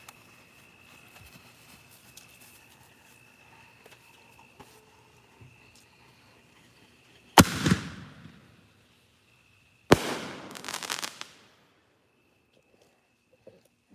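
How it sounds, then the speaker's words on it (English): Two loud firework bursts go off near a lake, each crackling and then rolling away in a long echo that carries off the water, with quiet background sounds in between. "You hear that echo? Their fireworks don't echo down the street. That's coming off the lake."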